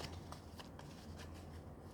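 Tarot cards shuffled and drawn from a deck, a soft continuous papery riffling with light flicks, quiet and close.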